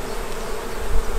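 Honey bees buzz steadily at an open hive while a beekeeper fits a super above a queen excluder, a dense, close, continuous hum that swells slightly near the end, with no voices.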